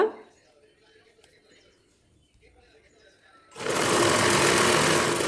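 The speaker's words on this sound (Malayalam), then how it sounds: "എന്നിട്ട് ഇതുപോലെ സ്റ്റിച്ച് ചെയ്ത് കൊടുക്കുക" A sewing machine stitches fabric for a blouse neck design, its loud steady whirring starting abruptly partway through after a quieter stretch with faint background sounds.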